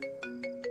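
A phone ringtone chirps in four quick repeating electronic pulses, steady and moderately loud, with no voices over it.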